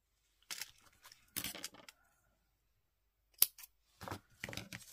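A few quick snips and a short tearing rip of clear tape, with brief bursts separated by silence, close to the microphone.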